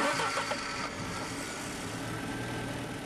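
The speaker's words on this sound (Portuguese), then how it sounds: "Dê partida no motor" A car engine fitted with a Magneti Marelli G7.25 multipoint fuel injection system starts up close by, a little louder at first, then settles into a steady, even running hum.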